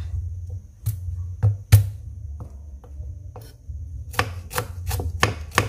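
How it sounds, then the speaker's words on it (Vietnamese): A knife chops shallots on a cutting board for a vegetarian dish, a run of sharp knocks, sparse at first and then quicker, close up over a low steady kitchen hum. "Bây giờ chúng ta sẽ sắc hành nha các bạn."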